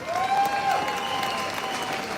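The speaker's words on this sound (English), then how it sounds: "Phil Hicken, please give this man a round of applause." At a live outdoor protest against grooming gangs, the crowd gives Phil Hicken a round of applause: sustained, full clapping from many people, with a thin whistling tone gliding above it early on.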